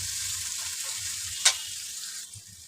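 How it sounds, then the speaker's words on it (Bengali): Chopped onion, green chilies and bay leaves frying in hot oil in a pan, a steady close sizzle throughout with one brief louder crackle partway through and no talking. "পেঁয়াজ মরিচগুলো যখন একটু হালকা বাদামি কালার হয়ে আসবে তখন আমি মাছ দিয়ে দেব"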